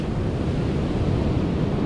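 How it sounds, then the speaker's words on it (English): Huge ocean surf at New Smyrna Beach, a steady, loud roar of breaking waves with wind rumble filling the clip, no voices. "as you can see, the surf is still huge"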